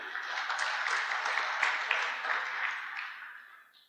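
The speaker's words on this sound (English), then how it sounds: "Let's give him a nice round of applause." Conference audience applauding, a full round of clapping from many hands that swells early, holds, then tapers off toward the end.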